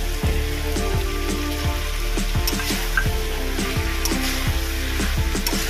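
Green chillies dropped into hot oil in a frying pan while cooking Bengali prawn and Malabar spinach charchori give a steady, close sizzle with crackling pops throughout.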